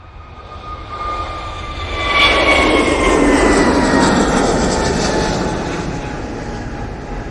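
An Airbus A321neo jet taking off from Manchester Airport on a flight to Marrakesh, a steady engine roar that swells after the first two seconds and holds loud and broad, with whining tones sliding downward as it climbs away.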